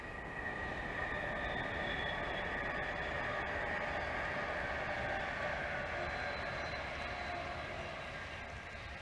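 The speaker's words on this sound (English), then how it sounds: "they're Virgin trains" Virgin trains run along the West Coast Main Line near a canal walk at Blisworth, giving a steady, faint rail rumble and rush that holds for the whole clip with no clear change in level.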